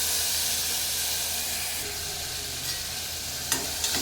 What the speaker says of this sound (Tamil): வெங்காயத்தையும் பச்சை மிளகாவையும் நம்ம சேர்த்துக்கலாம்.